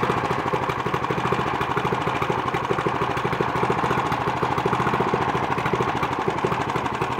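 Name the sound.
engine cold start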